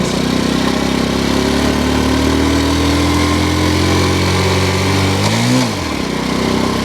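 A Honda Cub C90 motorcycle's small engine revs up close by, its pitch climbing steadily, then dips sharply during a gear change before pulling again.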